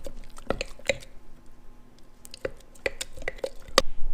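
A flour and water sourdough starter is stirred and aerated in a container, giving scattered wet squishes, clicks and sticky slaps at an irregular pace, close up and fairly quiet.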